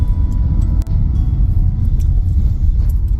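A diesel Hyundai i20 cruises smoothly on a highway at about 80 km/h, heard from inside as a loud, steady low road and engine rumble with one brief dip.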